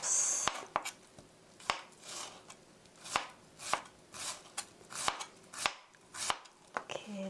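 A knife chops onion on a cutting board for a meat toast, steady close chops of roughly a dozen and a half crisp strikes at an even pace with no talking.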